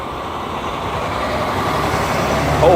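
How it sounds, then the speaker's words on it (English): Loud cars drive by outdoors, a steady, heavy roar of passing traffic that swells slightly louder toward the end. "Holy loud cars going by."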